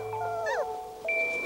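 Newborn puppies in an Arctic setting give a couple of thin, high whimpers in a short quiet moment of an animated adventure, near and soft, with no talking.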